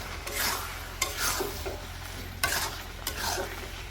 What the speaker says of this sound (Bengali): রসুনটা দিয়ে এখন মিশিয়ে নিব ভালো করে।